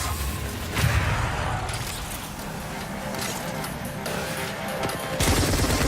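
Rapid automatic gunfire from the LSTAR energy weapon in the Apex Legends video game, a dense sustained burst of shots mixed with game effects, with a character voice talking over it.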